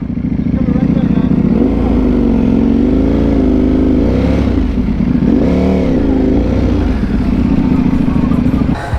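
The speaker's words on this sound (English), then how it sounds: "It sounds good. This exhaust, man. Oh, it sounds good." A motorcycle engine with an aftermarket exhaust idles loudly and steadily, its pitch rising and falling through a couple of throttle revs, with voices faintly underneath at a bike meet during Daytona Bike Week.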